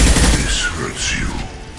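Rapid bursts of gunfire in the Mass Effect Legendary Edition video game, dense and close, overlapping with game voices and effects throughout a short, busy stretch of combat.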